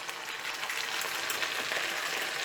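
Chicken pieces frying in a wok for XO chicken, a steady close hiss and crackle of hot oil with no pauses and no voices.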